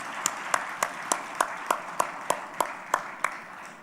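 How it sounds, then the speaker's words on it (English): Sparse, evenly spaced hand claps from an audience after keynote speakers at a plenary session on climate-resilient sanitation, rhythmic and somewhat distant in a large room. "I think that our keynote speakers deserve a warm applause"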